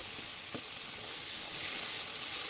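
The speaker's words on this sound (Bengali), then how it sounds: "এখন আমরা মটরশুঁটি মটরশুঁটি আর রসুন দিব" Green peas and garlic sizzle in hot oil in a wok, a loud, continuous bright hiss with a faint early clink, and no talking.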